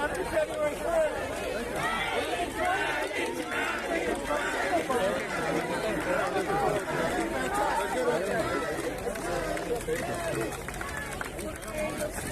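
A dense crowd surrounds President Bukele in downtown San Salvador, with constant loud chatter and shuffling from many people close by.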